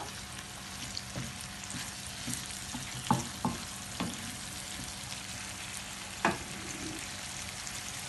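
Chicken sizzles steadily in a hot pan over raised heat while cooking chicken mulakidichath, with a few sharp clinks and scrapes of stirring; a voice speaks briefly.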